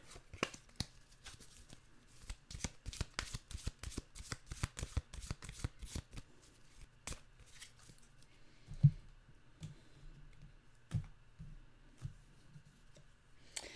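A deck of animal oracle cards is shuffled by hand, making a quick run of crisp riffling slaps and clicks. Toward the end the shuffling becomes sparser, with a few scattered taps.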